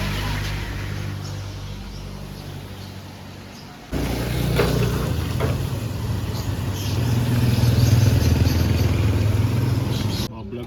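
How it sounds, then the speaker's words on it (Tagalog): A stalled motorcycle that won't start is pushed along to a mechanic, with a steady low rumble of wheels and road noise that swells midway through, while people talk over it the whole time. "Ayaw mi-start na itong motor. Kaya tinulak natin."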